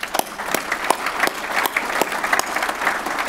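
Audience applause at a farming conference panel discussion, thanking four panellists: a steady burst of many hands clapping in a hall, fairly loud and sustained, with no talk over it.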